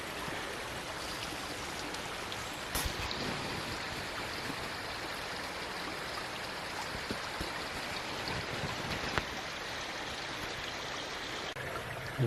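Steady trickling and babbling of a small creek, a gentle continuous water sound close by with occasional faint splashes, no talking.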